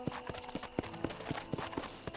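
Horse hooves clip-clop in Red Dead Redemption 2, a steady walking rhythm of distinct, evenly spaced hoofbeats, moderately loud and close, with no talk over them.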